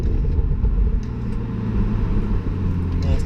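A car's engine and exhaust rumble steadily with a deep, loud low-end drone under light throttle, close to the tailpipe, with no clear rev spike.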